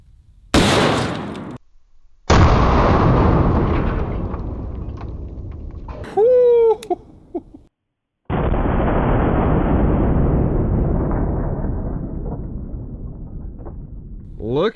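Heavy 425-grain vaporizer rounds fire from a .500 S&W Magnum revolver outdoors. Several very loud, booming blasts sound close by, each with a long rolling decay, and a person speaks between shots.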